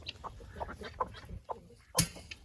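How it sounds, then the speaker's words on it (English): A farmyard flock of chickens, a rooster with hens running along a fence line on a sunny crisp day, gives scattered soft clucks and short calls, fairly distant, ending in a sharper louder squawk near the end. "Here comes some of Steph's chickens."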